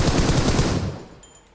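A burst of rapid gunfire from the mobile battle-royale shooter PUBG Mobile, loud and dense for about a second before cutting off abruptly, followed by a brief thin electronic tone.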